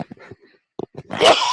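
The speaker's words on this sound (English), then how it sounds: "I'm gonna sneeze." A single person sneezes once, a sudden burst of breathy noise that follows a few short sharp intakes and throat sounds, close and loud, with no talking.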